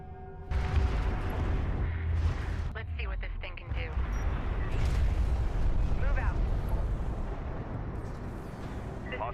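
Orbital weapon strikes in Homeworld: Deserts of Kharak land as heavy, rumbling explosions that roll on loudly and continuously, with spoken voice lines over the blasts.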